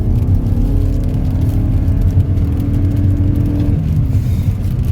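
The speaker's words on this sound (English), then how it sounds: "Let's smash the throttle." A 2025 Toyota Crown Signia with a 2.4-liter hybrid powertrain rated at 240 horsepower accelerates at full throttle, its engine drone steady and loud from inside the cabin, with no talk.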